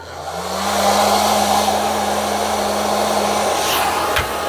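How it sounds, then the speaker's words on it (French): Hair dryers, a 2000-watt unit on speed 1 and an older one, blow with a loud, steady airy roar and a low motor hum that holds throughout, ending with a brief click. "on a le sèche-cheveux qui fait 2000, mais on le mettra en vitesse 1"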